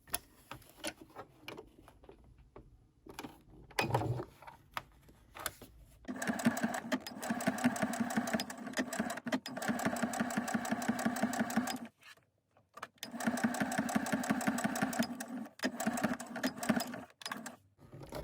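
A sewing machine stitches fabric about half a centimetre from the edge in rapid, even bursts, running in two long stretches with pauses between, close and moderately quiet.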